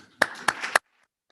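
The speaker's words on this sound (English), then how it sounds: "We'll give them one more round of applause." Three sharp, close hand claps at a white coat graduation ceremony, evenly spaced and followed by silence.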